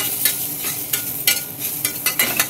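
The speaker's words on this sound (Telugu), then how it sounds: "కొంచెం ఇట్లా వేగుతూ ఉంటుంది" Ground paste frying with curry leaves in a pan for beetroot curry, a close, steady sizzle punctuated by several sharp scraping stirs in quick irregular succession, with no voices.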